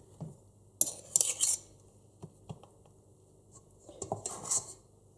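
Two small spoons scraping and tapping chocolate muffin batter into small muffin molds, with a few short clinks and scrapes in bursts and quiet gaps between them, close by.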